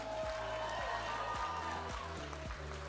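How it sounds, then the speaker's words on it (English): An audience at a cooking competition applauds the contestants, a short burst of steady clapping from a modest crowd with a low musical hum underneath. "Another round of applause for all the contestants"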